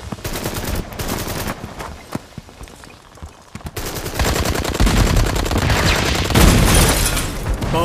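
Heavy gunfire in a close-quarters firefight near a barricade, dense rapid bursts and rattling automatic volleys that grow louder and more continuous in the second half, with no clear talk over them.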